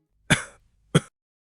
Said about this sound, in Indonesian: Pak, Bapak batuk.